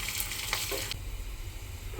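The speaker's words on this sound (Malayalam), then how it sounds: "ഞാനിതൊന്ന് ഉള്ളിയിൽ കുറച്ച് താളിച്ച് കൊടുക്കുന്നുണ്ട്." Onion and curry leaves fry in cow ghee for a tempering, a brief close crackling sizzle with a sharper burst early on that settles into a steadier, softer fry, with no voices.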